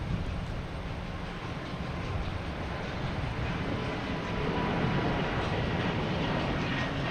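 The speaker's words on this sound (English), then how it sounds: "Is a Delta heading to LaGuardia in A220." A Delta Airbus A220 heading to LaGuardia from Boston Logan makes a fairly faint, broad jet rumble that grows gradually louder across several seconds, with no voices.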